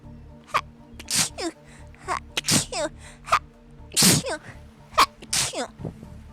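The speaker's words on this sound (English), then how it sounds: "You ever get that, like, sneeze that's stuck?" Several sharp, explosive sneezes burst out in quick succession, each a short loud blast of breath with some throaty voicing around them, close and fairly dry.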